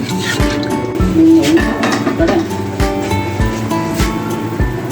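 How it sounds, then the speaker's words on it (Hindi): Water comes to a boil in a cooking pot for chana pulao, a close bubbling churn with repeated low pops and gurgles throughout. "पानी में बॉईल आ चुका है।"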